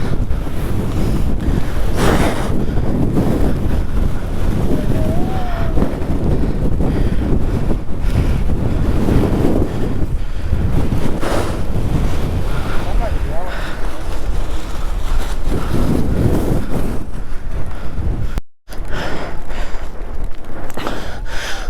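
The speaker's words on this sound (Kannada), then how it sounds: "ಫುಲ್ಲು ಹಿಮ ಬೀಳ್ತಾನೆ ಐತೆ, ಜಾಸ್ತಿ ಗಾಳಿ ಬೀಸ್ತೈತೆ, ನಿಲ್ಕೊಳ್ಳೋಕೆ ಆಗ್ತಲ್ಲ" Strong, constant wind roars and buffets the microphone on top of Mullayanagiri peak in Chikkamagaluru, loud and unbroken apart from a brief dropout near the end.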